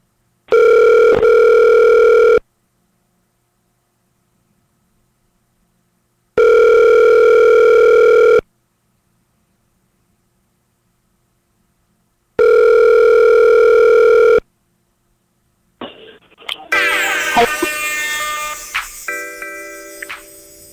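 A telephone dial tone sounds in three steady, loud bursts with silent gaps between them while a phone call is placed, followed by a short jumble of other tones and clicks at the end.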